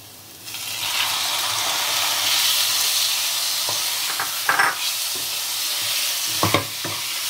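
Chicken pieces sautéing in a hot pan for Bengali-style chicken ghanto, a continuous loud sizzle and hiss with a few scraping stirs of the spatula near the end.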